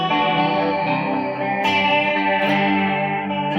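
Electric guitar through a Strymon chorus pedal rings out in sustained chords with a shimmering, wavering chorus, a new strum cutting in midway, played alone without talk.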